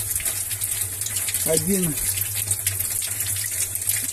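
Tap water gushes steadily into a blue-black garden hose hooked to the mains supply for a rain-barrel irrigation setup, a continuous close rushing noise with a brief spoken word over it.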